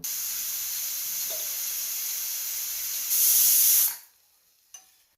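A pressure cooker whistle hissing out steam while cooking stuffed tinda, a loud steady hiss that swells into a sharp burst before cutting off, followed by a brief clink.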